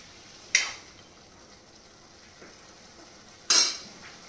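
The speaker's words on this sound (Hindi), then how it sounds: "और लो फ्लेम पे मसाले को और गट्टे को हम पकाएंगे।" Gatte, gram flour dumplings, cooking in masala over a low flame, heard as a quiet simmer with two sharp metallic clinks of a utensil against the pan, spaced a few seconds apart, close by.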